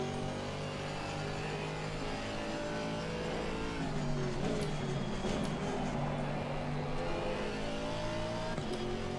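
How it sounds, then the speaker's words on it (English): A Mercedes-AMG GT4 race car engine in the racing game Assetto Corsa drones loudly and steadily, revving and surging under a dense, continuous roar, with no voices over it. "I just love the sound of the AMG."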